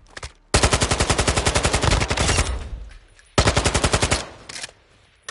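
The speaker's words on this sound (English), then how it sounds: "Let's go try this new gun we got." A new gun fired in Call of Duty Warzone 2: two loud, fast automatic bursts, the first lasting about two seconds with a rapid even rhythm, then a pause and a shorter second burst, close and dry.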